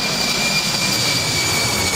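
Airliner jet engines roar steadily inside the cockpit while cruising at 30,000 feet, a dense, even rushing hum with no breaks.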